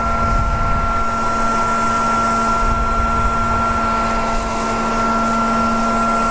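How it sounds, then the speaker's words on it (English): A vacuum running to suck up a bee swarm in a yard gives a steady, loud mechanical hum with a constant tonal whine throughout, broadband and unbroken from start to finish. "So the vacuum's on."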